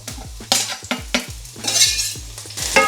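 Garlic and chilli sizzle gently in oil in a pan for spaghetti aglio e olio, a close, steady frying hiss broken by repeated scrapes and clinks of a utensil stirring against the pan, with no voices.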